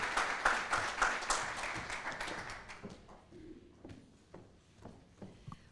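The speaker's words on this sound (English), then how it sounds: "let's give a nice round of applause to Laureen" An audience at a morning event welcoming a speaker with applause, a dense burst of many hands clapping that gradually thins out and fades into scattered claps and room noise.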